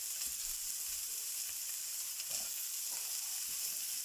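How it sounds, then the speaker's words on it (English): Onions sizzle in oil in a pan, a steady bright frying hiss with no talk, fairly quiet and even throughout with a few faint stirring taps. "there's enough oil in the pan, so in with my onions"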